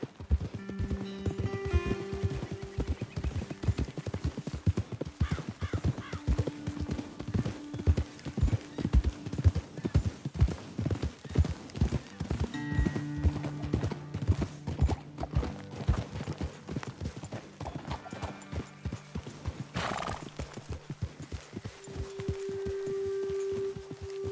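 Steady clip-clop of horse hooves at a walking pace in Red Dead Redemption 2, close and continuous, with occasional low tonal sounds in the background.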